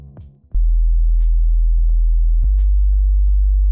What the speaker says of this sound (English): This is giving us a really subby sine wave